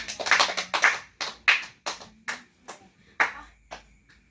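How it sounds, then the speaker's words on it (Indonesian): A classroom group clapping hands together in a few short bursts, loose rhythmic claps close by that fade and sputter out into scattered final claps, with no talk over them. "tepuk tangan untuk kita semua"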